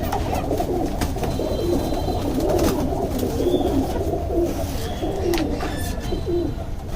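Pet work-line pigeons with purple feet coo steadily in a home loft, a dense run of low repeated cooing, close and fairly loud, with no talk.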